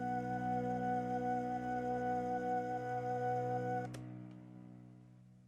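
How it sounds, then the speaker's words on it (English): Layered synthesizer drones hold steady, sustained tones, then cut off abruptly near the end, leaving a fading tail. "So now I'll show you the drones,"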